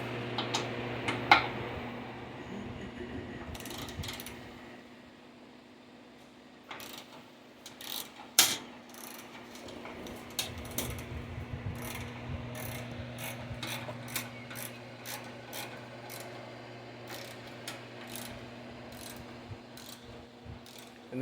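A ratchet tool loosens the exhaust band clamp bolt on a 2023 Indian Challenger motorcycle, with a long series of quick clicking pawl ticks in irregular bursts, close and clear over a low steady hum.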